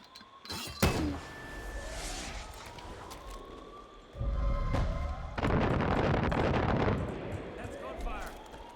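Far Cry 5 combat with mortar blasts and gunfire: sharp impacts, a heavy thump, and dense bursts of firing mixed with a wailing siren-like tone, while voices speak in between.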